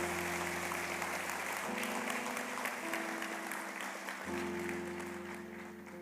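A church congregation claps for the Lord during a Spanish-language sermon, steady broadband applause lasting throughout, moderately loud, over a sustained organ or keyboard chord backing.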